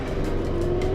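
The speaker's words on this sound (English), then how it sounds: "They're just using the motor right now until we get a little further out to the open water" A motor pushes a traditional sailboat out of Shella on Lamu, Kenya, making a steady, close engine drone with an even low hum and no break.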